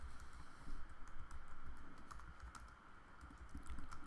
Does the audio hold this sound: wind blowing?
no